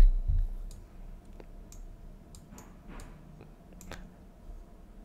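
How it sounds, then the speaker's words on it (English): Computer mouse right-clicks during CAD surface editing in Creo, a few sharp separate ticks spaced over several seconds, quiet and close with a faint room hum beneath. "right click and hold it and delete"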